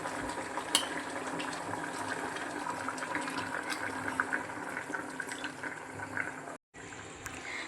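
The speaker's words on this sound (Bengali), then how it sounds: "এরপর এর মধ্যে দিয়ে দেব ঝোলের জন্য যতটুকু জল প্রয়োজন ততটুকু জল" Water steadily poured into a pressure cooker for Bengali mutton curry, a continuous close hiss and splash that runs unbroken, stops abruptly near the end, then briefly resumes.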